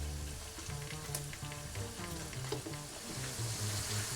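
Stir-frying in a pan over medium heat for a Japanese mushroom curry, a quiet, steady sizzle with soft rhythmic scraping stirs running through it and no voices.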